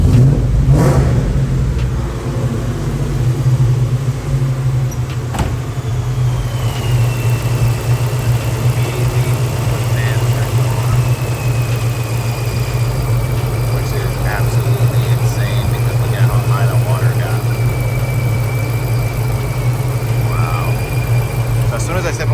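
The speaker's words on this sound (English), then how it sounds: "now I'm just gonna go in here and rev it" A car engine revs while the radiator runs hot and the cooling fan is expected to kick in, a steady low engine drone with a rising whine, close and loud throughout.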